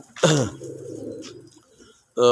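Domestic running pigeons give low, pulsing coos that roll on for about a second after a brief voice at the start. Another vocal burst cuts in at the very end.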